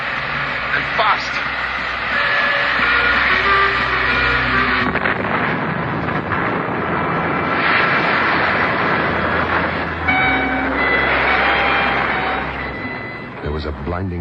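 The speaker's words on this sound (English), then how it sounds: "the German troop train went hurtling into space and crashed into the icy river below" A German troop train rumbles along in a radio drama sound effect, a continuous loud rail roar with wheel clatter under a voice, swelling and then fading.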